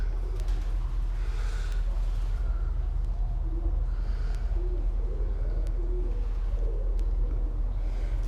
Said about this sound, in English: Constant cooing.